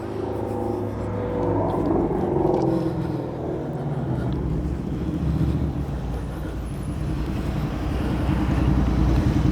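A Subaru Forester with bolt-on fender flares drives past at a cars and coffee meet, a close rumbling engine note building and passing amid steady crowd and traffic noise.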